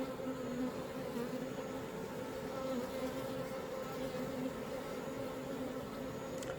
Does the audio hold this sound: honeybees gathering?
yes